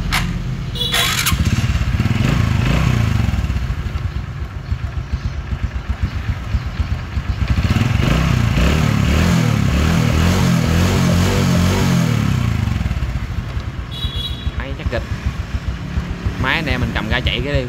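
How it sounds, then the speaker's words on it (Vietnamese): A 2008 Honda Neo motorcycle engine runs steadily and close by, a continuous idle with a slight rev rise in the middle. Someone speaks over the engine at several points. "Rồi test máy lại cho anh em mình nghe tiếng máy nè"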